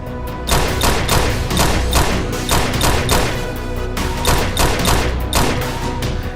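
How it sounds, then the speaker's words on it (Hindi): Several rounds of gunfire from attackers in the middle of a busy street crossing in Delhi's Subhash Nagar, a rapid run of sharp loud bangs and thuds in clustered bursts, close and continuous over traffic noise. "हमलावरों ने चलाई कई राउंड गोलियां"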